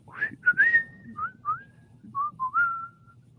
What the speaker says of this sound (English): You better be singing instead of whistling on the podcast.